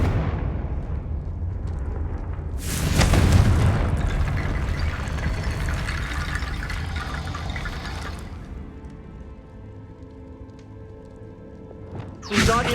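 A Confringo fire spell explodes in Hogwarts Legacy with a sudden loud, broad blast, followed by a long roaring, crackling wash that fades over several seconds, with another sharp burst right at the end.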